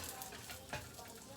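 Meat sears steadily in a hot pan, a close, constant sizzle and crackle with a brief louder spatter partway through, and no talking.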